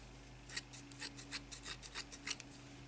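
Scissors cut through thin fabric or craft material for a small no-sew Barbie doll bag, giving a quick series of about ten crisp snips in an uneven rhythm, close and fairly quiet with no talking.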